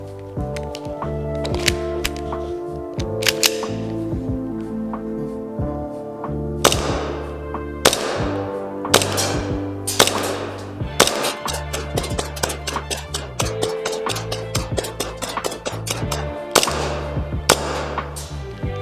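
An EMG Strike Industries 2K-Alpha 2011 gas blowback airsoft pistol, filled with propane at about 16 °C, fires a long string of sharp, snappy shots with a clacking slide, some in quick bursts, over steady background music.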